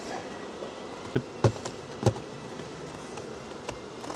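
Honeybees hum around an opened hive during spring beekeeping work, a steady close buzzing drone with a few sharp knocks and taps from hive tools or frames standing out above it.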